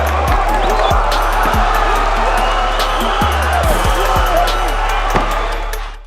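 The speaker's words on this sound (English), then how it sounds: "The crowd went wild at the impressive finish" MMA crowd roaring after a flying armbar submission finish, a loud, dense wall of cheering and whooping that holds steady throughout, with occasional low thuds underneath.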